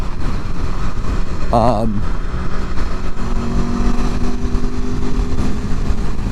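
A 2021 Aprilia Tuono Factory motorcycle engine runs loud and steady through continuous riding, with a brief pitch-sweeping burst early on as gears change, the drone holding close and even throughout.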